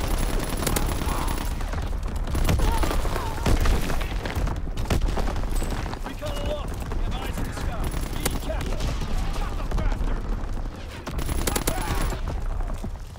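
Artillery battery fire in a military video game: dense, overlapping bursts of distant booms and rapid gunfire rolling continuously, with faint game radio chatter mixed underneath.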